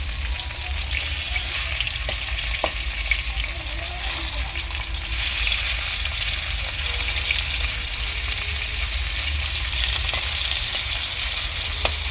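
Fish pieces spit and crackle in hot oil in a loud, continuous sizzle, dotted with occasional sharp pops and the odd clink of a utensil.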